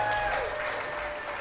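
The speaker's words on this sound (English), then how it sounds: "Keep clapping." Audience applause fills a synagogue after a klezmer band's performance, a steady, dense wash of clapping from a crowd that holds its level and fades only slightly toward the end.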